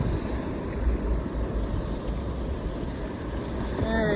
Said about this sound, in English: The waves look rougher than I was expecting